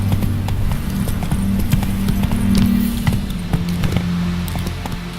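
Roach, the horse from The Witcher 3: Hearts of Stone, galloping in a steady rhythmic clip-clop of hooves, close and clear throughout.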